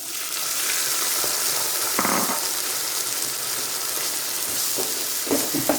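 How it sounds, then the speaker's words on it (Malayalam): Chicken stock is poured into a hot pan, giving a sustained hissing sizzle with brief splashy bursts and light stirring clicks, close and steady with no talk. "ഒന്ന് ഇളക്കിയ ശേഷം അതിലേക്ക് ചിക്കൻ സ്റ്റോക്ക് ഒഴിക്കുക."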